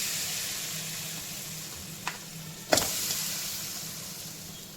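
Jaggery melting in ghee in a kadhai, a soft steady sizzle with two sharp clicks or taps against the pan, close and fairly quiet, no talking.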